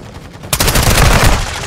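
Loud automatic gunfire in the shooter Call of Duty: Warzone 2.0 DMZ breaks out suddenly after a quiet moment and continues as a dense, rapid burst of shots.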